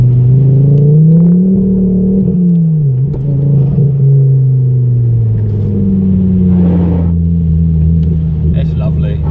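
A Ford Focus ST engine revving close by, a loud deep rumble that swells and settles, steady and sustained with a few faint clicks and no voices.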